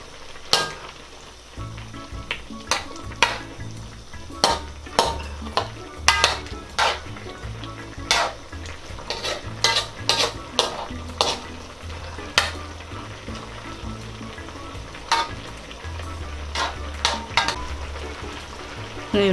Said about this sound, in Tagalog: Tapos hahaluin lang po natin to para maluto po yung ating carrots.